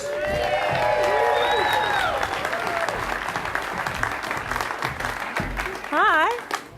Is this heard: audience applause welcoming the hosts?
yes